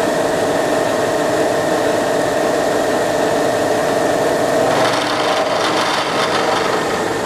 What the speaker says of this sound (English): So I'm gonna turn that spindle speed on and I'm gonna crank it up.